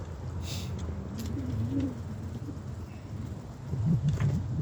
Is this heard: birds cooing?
yes